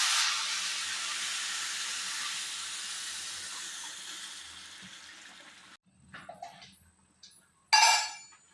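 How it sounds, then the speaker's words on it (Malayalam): Boiling water pours into a pot of biryani rice, a steady rushing hiss that slowly fades over several seconds, followed by a few light clatters of the pot and utensils. "അപ്പോൾ വെള്ളം നമ്മളെ തിളച്ചിട്ടുണ്ട് നമ്മൾ ആ ഇരട്ടി എന്ന് പറഞ്ഞത് അതിനെതിലേക്ക് ഒഴിക്കാൻ പോകുന്നു ഇപ്പോൾ"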